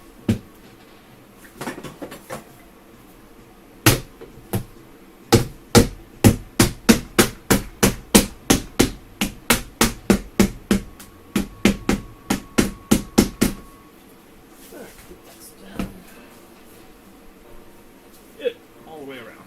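Rapid, sharp hammer strikes ring out in a long run of about twenty evenly spaced blows, preceded and followed by a few scattered single hits; close and loud, with a person's voice also present.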